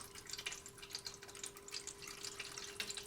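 Liquid leaking from a roadside-found gas can in a garage, a faint, steady trickle and patter of dripping.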